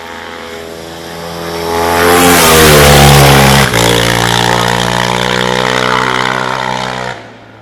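Racing motorbike on the Shelsley Walsh hill climb course, engine screaming loudly as it accelerates past, a sharp gear change midway, then the roar fading as it runs up the hill.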